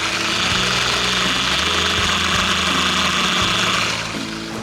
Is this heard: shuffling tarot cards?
no